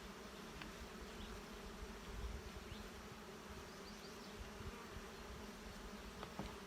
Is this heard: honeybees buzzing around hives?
yes